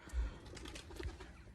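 A wild pigeon calls in a field where an air rifle is being tuned, giving a couple of faint low coos against soft outdoor background noise, with no talk.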